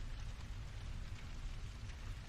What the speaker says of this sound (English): As the rain continued to pour outside and the thunder roared, John finally acknowledged the truth.